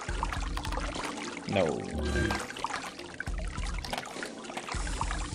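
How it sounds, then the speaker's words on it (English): Water pouring and trickling in the video game SiN runs steadily, a close splashing flow with intermittent thumps and game noises over it, with a brief spoken word. "And there's some water flowing"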